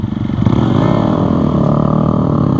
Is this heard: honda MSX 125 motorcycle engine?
yes